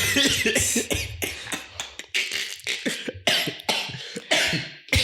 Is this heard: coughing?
yes